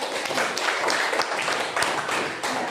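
Students in a class applaud a classmate, a dense, steady patter of many hands clapping together for a few seconds without pause.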